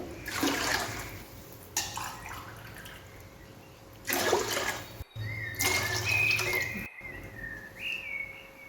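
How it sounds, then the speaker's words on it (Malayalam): Six glasses of water are poured into a pot holding three glasses of rice for Kerala-style chicken biryani, heard as several separate splashing pours with a rising, filling tone and short pauses between them, close and fairly loud. "അതിലേക്ക് 6 ഗ്ലാസ് വെള്ളം ഒഴിച്ചു കൊടുത്തിട്ടുണ്ട്."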